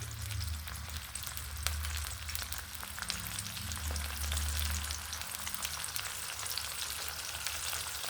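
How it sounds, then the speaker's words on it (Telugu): Stuffed ivy gourds coated in spiced mustard-powder masala fry in oil in a pan for a curry, giving a steady, even sizzle with fine crackles throughout and no talk. "ఇవి వేగాలండి, చక్కగా వేగితే బాగుంటుంది."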